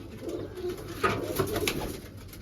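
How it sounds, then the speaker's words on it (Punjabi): A female pigeon coos in a low, soft rumbling run of several calls, close by and alone, with steady background hiss. "ਇੱਕ ਆ ਕਬੂਤਰੀ ਹੈ ਜੀ"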